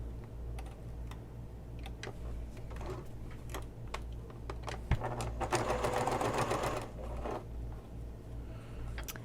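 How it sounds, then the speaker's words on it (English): Sewing machine stitching a messenger bag seam at a half-inch allowance, a quiet steady mechanical whir with ticking, speeding up into a denser rattling run midway, close up. "We're still sewing with a 1/2 inch seam allowance"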